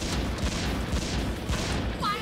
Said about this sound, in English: Did that thing just fire rice-a-roni at us?